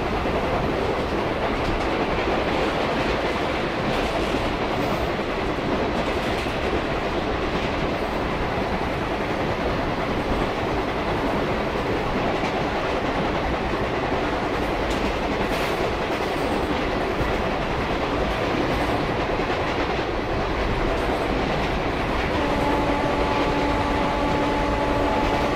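A train runs steadily in Indian Train Simulator (MSTS), likely a WAP4 locomotive hauling the Avadh Express, with continuous rolling rumble and clickety-clack of wheels over rail joints, loud and unbroken, with no talking.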